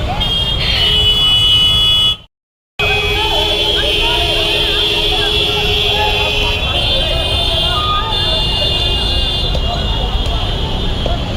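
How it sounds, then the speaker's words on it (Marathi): Busy street traffic at a corner junction, a steady loud roar of engines with tonal horn toots and honks scattered through, briefly cutting out near the start; no talk heard. "आमच्या कोपरच्या नाक्यावरची ट्रॅफिक बघू शकता तुम्ही"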